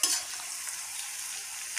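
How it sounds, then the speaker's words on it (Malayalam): Horse gram rasam with asafoetida boils in a pan, giving a steady, close hiss of bubbling liquid with no talk. "ഇനി ഇത് നല്ലോണം വെട്ടി തിളക്കട്ടെ."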